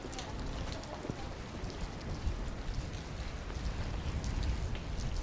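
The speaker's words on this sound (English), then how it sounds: "It's rainy too." Rain falls on a typhoon day at a street fair in Saitama-Shintoshin, a continuous dense hiss of drops on surfaces with low rumbling undertones, steady and enveloping.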